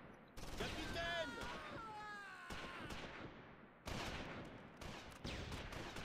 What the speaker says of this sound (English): seemed like that anti-tank gun fired off